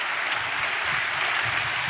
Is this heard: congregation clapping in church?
yes